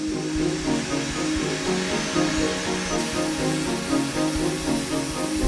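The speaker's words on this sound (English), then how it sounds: "The drill bit follows a pre-programmed route, shaping the car with utmost precision." A steady, loud mechanical whir of a 5-axis CNC milling machine shaping a model car, with a constant grinding hum and rhythmic pulsing texture throughout, no voices.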